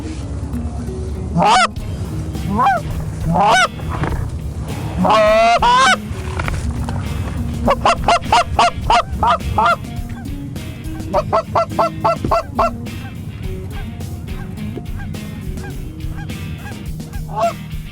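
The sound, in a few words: geese honking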